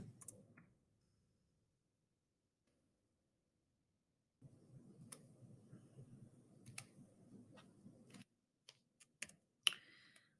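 Typing on a computer keyboard: after a brief tap and a long quiet gap, a quiet, close run of rapid key clicks follows, then a few separate sharper clicks near the end.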